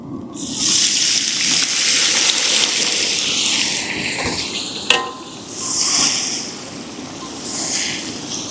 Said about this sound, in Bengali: এবার খুন্তির সাহায্যে নাড়তে থাকবো মশলাটা ভাজা গন্ধ বেরানো অবধি।